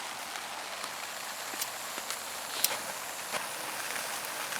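Steady rain falling at a rainy campsite, a dense hiss of drops with a few sharper taps and patters on nearby surfaces, moderately close and without speech.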